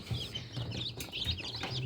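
Newly hatched chicks of a meat-type colored breed from Hungarian eggs in an incubator, peeping in soft, high, overlapping chirps that run continuously, faint and close, with a low hum underneath.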